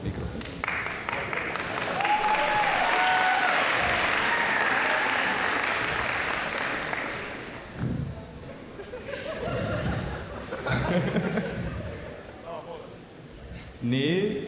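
A show audience breaks into sustained applause for a yoga-pose contest at a ball, loud clapping filling the first half and then thinning, with chatter and laughter and a host's voice over it later.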